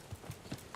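Horse hooves clip-clopping in the game Kingdom Come: Deliverance, a quick steady run of four soft hoof strikes, fairly faint against a dense background ambience.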